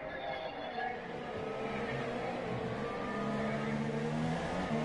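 Race car accelerating hard after lapping a Ferrari, a rising engine whine with layered harmonics that swells steadily, heard from some distance amid a continuous track roar.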